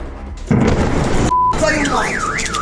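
A loud explosion at night at an occupied site in Crimea: a heavy broadband boom bursts in, followed by a rising and falling car alarm siren wailing nearby, with voices speaking over it.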